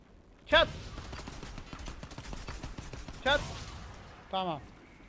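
A voice imitates gunfire in a few short bursts while playing Crysis 3 Remastered, with the mouth effects sounding over continuous game audio and near-constant chatter.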